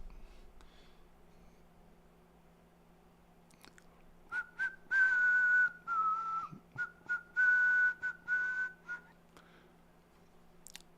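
A person whistles a short tune nearby, with clear separated phrases over faint room hum and no talking.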